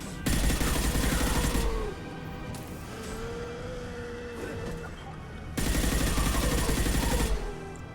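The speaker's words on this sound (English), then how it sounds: "Sally, don't run in the way of my goddamn guns" Rapid automatic gunfire from Mass Effect 2 combat, loud sustained bursts at the start and again near the end, with quieter shooting and game sounds in between and a voice speaking partway through.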